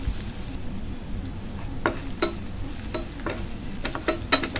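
Garlic fries in a pan with a soft continuous sizzle while a spoon scrapes and stirs in irregular close knocks, before onion goes in; no speech.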